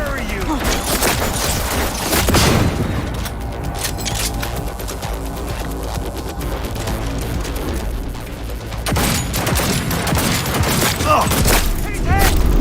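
Rapid bursts of video game gunfire crackle and boom loudly and nearly continuously, layered with in-game sound effects and people talking over the shooting.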